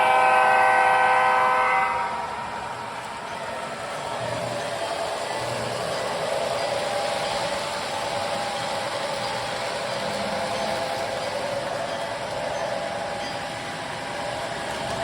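Sound system of an MTH SD40-2 model diesel locomotive in Wisconsin & Southern livery, opening with a loud horn blast for about two seconds. A steady engine drone with faint rumbles carries on after it.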